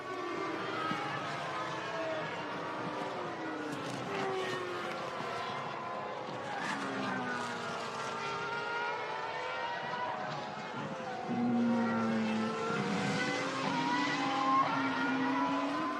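Formula 1 cars of the 2006 season circulating behind the safety car on the opening lap of the European Grand Prix at the Nürburgring, a steady engine drone with shifting pitches, under continuous commentary.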